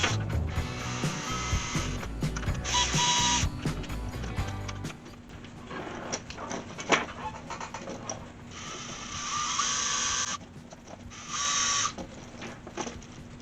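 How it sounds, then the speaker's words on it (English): A DeWalt 20 volt cordless drill fitted with a 1/2-inch bit whirs in short, high-pitched bursts between pauses, with clicking and ratcheting mechanical noises in the gaps. "It's just a DeWalt 20 volt, and it's just got a 1/2-inch bit on it"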